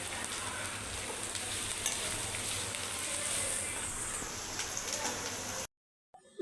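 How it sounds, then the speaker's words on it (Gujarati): Cut vegetables are sautéed in a hot pan for a roti roll filling, giving a steady close sizzle with occasional stirring scrapes for several seconds before it cuts off abruptly. "હવે એની અંદર આપણે કટ કરેલા વેજીટેબલ નાખી દઈશું. એને આપણે થોડી વાર સાંતળી લઈશું."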